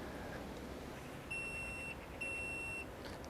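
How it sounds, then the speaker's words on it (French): Two identical electronic beeps from a beehive scale, each about half a second long, sound clearly over a quiet background hiss with a short pause between them. "Voilà, on vient d'entendre les 2 bips."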